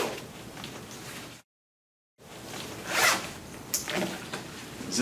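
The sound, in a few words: zipping up a film changing tent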